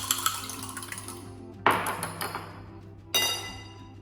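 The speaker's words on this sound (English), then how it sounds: "And just give it a whisk up with a fork." A fork whisks egg and milk in a mug, giving a rapid run of light metallic clinks, then two louder clanks and ringing chimes as metal strikes the ceramic. The sounds are close, with no one speaking.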